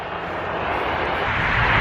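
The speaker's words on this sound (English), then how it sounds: "All right, Maya, your plane's coming." Airliner coming in to land at Tampa International Airport, a loud, steadily building jet roar passing close overhead.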